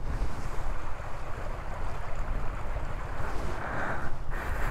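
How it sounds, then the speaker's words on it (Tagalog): Flowing water below Madongan Dam in Ilocos rushes steadily outdoors, a dense wash of water mixed with gusty wind buffeting the microphone, with no voices. "Sarap ng tunog nung daloy ng tubig."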